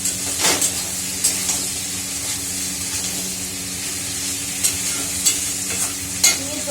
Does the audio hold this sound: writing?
no